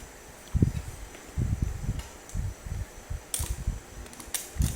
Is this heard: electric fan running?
yes